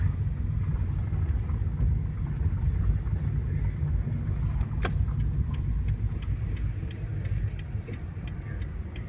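A car drives slowly through narrow old-town streets in Kraków, heard from inside as a steady low engine and road rumble, with light clicks and rattles over the top and no speech.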